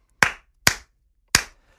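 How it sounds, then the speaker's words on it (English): Three sharp, isolated hand claps land close and loud in an uneven, deliberate slow-clap rhythm, with silence between each. "So slow clap for the stupidity around that."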